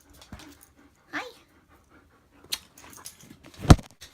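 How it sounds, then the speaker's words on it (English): A pet dog, a female, pants in short, scattered bursts close by, with a brief whimper-like sound and a jingle like tag or keys rattling between quiet gaps. "And this is my dog."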